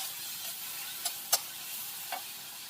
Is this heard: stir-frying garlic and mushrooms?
yes